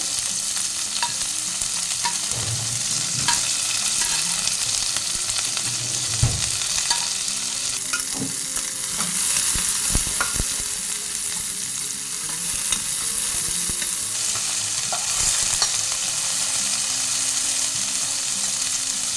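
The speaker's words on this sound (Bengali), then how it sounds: "পেঁয়াজটা একটু ভালো করে ভেজে নেব" Onions and green chillies fry in oil with cumin in a pan for a curd bhindi curry, a loud continuous sizzle broken by scraping stirs of a spoon, with no talking.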